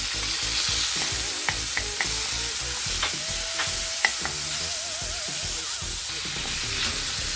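Tomato sautéing in a pan for salmon sinigang gives a steady, close sizzle and frying hiss, with scrapes and clinks from stirring scattered throughout.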